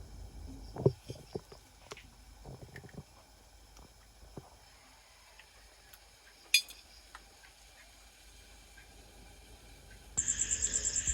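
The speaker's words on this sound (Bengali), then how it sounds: "চারদিকে ঝিঝি পোকার ডাক" Crickets chirr faintly and steadily in a quiet night setting, with a few nearby knocks early on and a louder pulsing chirp near the end.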